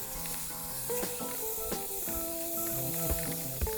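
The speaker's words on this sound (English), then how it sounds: "And here I am spray painting." A can of spray paint hisses in short, quiet bursts as a skateboard deck is coated. Music plays faintly underneath.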